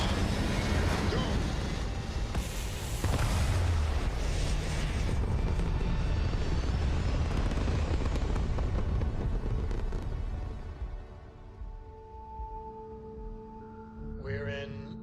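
In the game Starfield, a spaceship blasts off and climbs into orbit: a loud, dense rocket roar that rumbles for about ten seconds, then thins and fades into quiet hum as a voice speaks briefly at the end.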